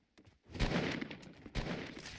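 Gunfire in the mobile battle-royale game Fortnite Mobile comes as two bursts of rapid shots, moderately close and fairly quiet, with no talking.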